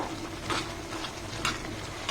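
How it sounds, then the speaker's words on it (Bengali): Taro stolons cooking in a pan, stirred with a spatula: a dense, steady bubbling sizzle with a few soft scraping strokes over about two seconds, close and moderately loud. "এই পর্যায়ে আমি নাড়াচাড়া করে দিব"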